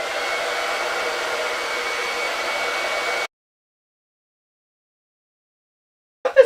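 A hair dryer blows with a steady, even whoosh for about three seconds, then cuts off to silence before a brief faint noise at the end.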